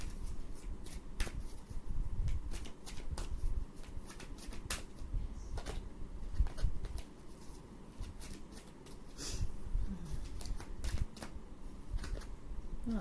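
Oracle cards being shuffled by hand, a steady run of crisp riffling slaps and flicks close to the mic that carries on without pause, with no voices.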